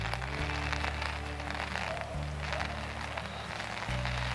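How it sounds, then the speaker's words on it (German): Wind and rain along a canal on an outdoor hike, a steady broadband rush of gusting wind and pattering rain with low rumbling buffeting against the microphone, continuous and close. "Ah, Wind und Regen sind heute mein ständiger Begleiter."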